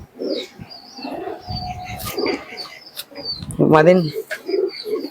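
Pigeons cooing in a seller's loft, soft repeated coos with light chirps and a wing flutter, heard close while someone talks over them.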